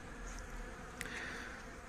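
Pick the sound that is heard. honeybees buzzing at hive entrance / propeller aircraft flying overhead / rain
honeybees buzzing at hive entrance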